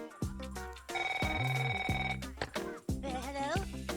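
An indoor telephone bell rings loud and close in repeated electronic bursts, with short gaps between rings and no voices over it.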